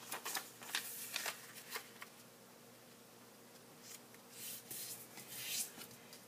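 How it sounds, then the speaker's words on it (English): Sheets of printed origami paper being folded in half horizontally and vertically, giving soft close crinkles, rubs and creasing swipes in scattered short bursts with no talking. "fold my paper either in half, both horizontally and vertically here"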